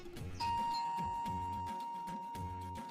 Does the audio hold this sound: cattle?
no